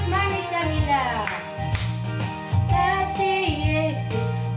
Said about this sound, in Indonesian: Boleh tepuk tangan, boleh pakai gerakan.